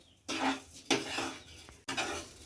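Rice for Bengali basanti polao is fried on a low gas flame and stirred in a pan, with three distinct scraping strokes of a spoon against the metal, quiet and close, each followed by a soft sizzle.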